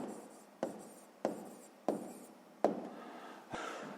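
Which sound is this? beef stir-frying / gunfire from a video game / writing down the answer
writing down the answer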